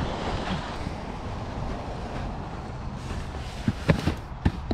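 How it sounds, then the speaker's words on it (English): Heavy rain pouring down outdoors, a dense steady hiss with gusty wind-like rumble, punctuated near the end by a few sharp nearby knocks or drips; no voices. "And it's pouring."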